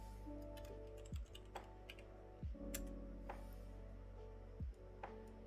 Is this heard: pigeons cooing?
no